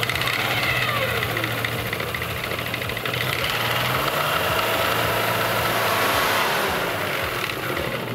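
A CFMOTO CFORCE 850 or 1000 quad bike engine runs steadily up close, giving a continuous mid-pitched idle with a faint knocking throb and vibration, with no talk.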